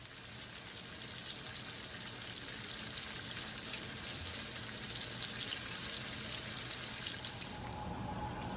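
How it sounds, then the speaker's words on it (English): Chicken for Southern fried chicken frying in a pan, a steady dense sizzle and crackle holding at an even level throughout with no talk over it. "we'll just let it fry for a while"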